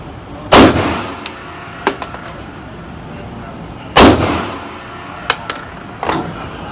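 Walther P-38 pistol fired at an indoor shooting range, two loud, widely spaced shots each with a short echoing tail, followed by light metallic clinks of brass and handling.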